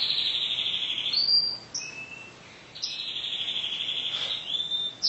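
A bird chirps in clear, sustained high whistling calls with brief pauses between phrases, fairly loud and close, with no talking over it.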